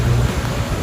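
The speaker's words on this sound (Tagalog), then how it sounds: "At bumuhos na nga ang malakas na ulan." Steady, dense rush of heavy rain during a motorbike ride at a stoplight, with a low rumbling undertone, continuous and loud throughout the short moment.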